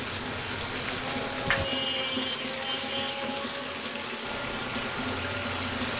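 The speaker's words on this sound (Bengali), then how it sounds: "এই দইটা দেওয়ার পরে আমি আরও কিছুক্ষণ কষাবো" Curry sautéing in a pan after sweet yogurt is added gives a steady, loud, close sizzling hiss that runs unbroken from start to end, with no voices.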